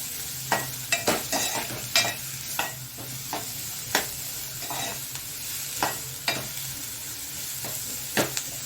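Chopped onion and capsicum sauté in a pan for pav bhaji, a continuous oily sizzle broken by regular sharp scrapes of a spatula stirring, close and clear with no voices.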